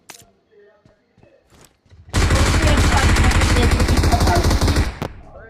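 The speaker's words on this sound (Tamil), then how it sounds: "சைட்ல இருந்து புல்லட் வருது" Sustained automatic gunfire in the mobile battle game BGMI, a loud rapid burst lasting several seconds after quieter footsteps and movement, close and dominant.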